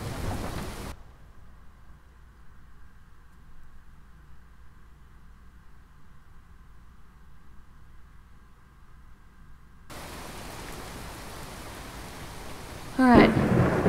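Thunderstorm with heavy rain: a steady wash of rain noise fills the whole stretch, then a louder rumbling burst near the end, with a voice speaking briefly at the start and again over the rain later.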